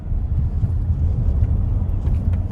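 A Chery Tiggo 8 Pro SUV's engine rumbles steadily at low pitch, holding a continuous drone with slight surges, heard close from inside the vehicle with some wind noise.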